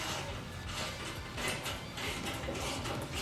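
A ratchet tightens the bolts of a RoadWorks heat shield, giving a steady run of close, dense mechanical clicking and grinding that carries on without a break, with no talk over it.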